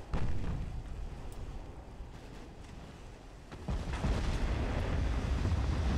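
Heavy naval gunfire from warships in the naval combat game Ultimate Admiral: Dreadnoughts, with a deep booming rumble that eases off and then surges into a loud, sustained roar of cannon fire and explosions.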